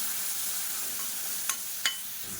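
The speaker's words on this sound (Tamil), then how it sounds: "மீடியமான ஃப்ளேமில் எல்லாத்தையும் நல்லா வதக்கிக்கலாம்" Green chili, garlic and crushed shallots sauté over a medium flame in a pan, hissing steadily up close while two quick spatula scrapes cut through near the end; nobody speaks.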